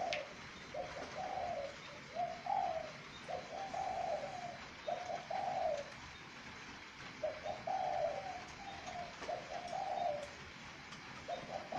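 Spotted dove cooing in a repeated series of soft, mellow phrases with short gaps between them, heard clearly over quiet background hiss.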